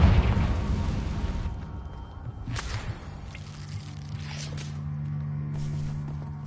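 A Confringo blast spell in Hogwarts Legacy bursts loudly at the start with a sharp whip-like crack and boom, then decays into a rumbling tail with a few smaller pops fading behind it.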